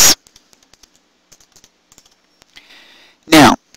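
Someone types on a computer keyboard in a word processor: a scattered run of soft, close key clicks, bracketed by louder bursts of noise at the start and near the end.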